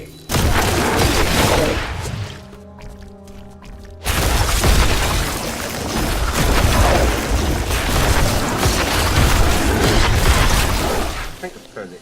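Explosion in the Diablo 3 video game, a loud booming blast that dies down briefly before a second sustained roaring burst, with some talk over it.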